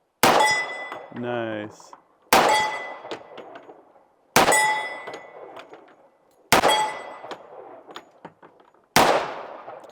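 Hollow point 230 grain handgun rounds fired at a steel target outdoors: five sharp shots spaced about two seconds apart, each ending in a ringing metallic clang that decays slowly, with a brief spoken word between shots.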